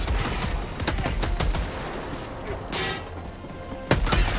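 Machine-gun fire in the video game Helldivers 2, loud rapid bursts of shots with sharp impacts, a brief pause, then renewed firing.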